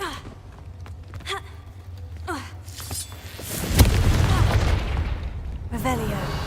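A Confringo spell in Hogwarts Legacy bursts into a loud fiery blast, a sharp crack followed by a sustained rumbling roar that fades out, set amid softer game effects and faint voice-like sounds.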